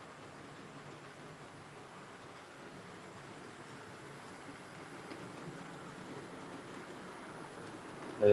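A low, steady rumble of a passing model train drones on in the background, fairly faint and continuous without any talking.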